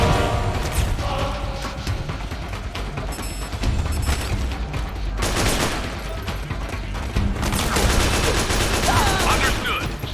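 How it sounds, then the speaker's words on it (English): Rapid AK rifle fire in Metal Gear Solid 4 rattles almost continuously through the whole stretch, loud and dense, with bursts swelling near the middle and toward the end over busy game noise and faint talk. "we'll just bust out the AK here"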